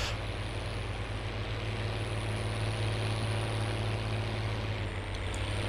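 A John Deere 8010 series US tractor from the late 1990s, modded into Farming Simulator 19, runs with a steady low engine drone and a constant hum, idling evenly with no change in pitch from start to finish.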